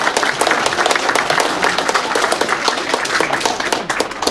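A crowd gathered indoors for Finnish President Sauli Niinistö in Riihimäki claps loudly and steadily, the close, dense applause filling the whole stretch with no talk over it.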